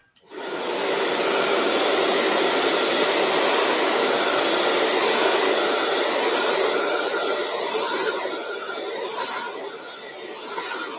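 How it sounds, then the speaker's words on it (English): A hair dryer blows steadily and loudly on hair freshly set with hairspray, a continuous broadband whoosh holding for about ten seconds, easing slightly near the end, with no talking. "Straight in with a hairdryer."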